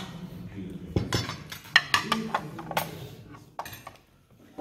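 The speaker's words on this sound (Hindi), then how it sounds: "ये चम्मच वगैरह जो है ये साइड पे रख दिए जाएंगे।" Metal spoons and cutlery clink and clatter as they are set aside at a meal of the traditional D.I. Khan dish sobat, with several bright, separate taps and a quieter voice in the background.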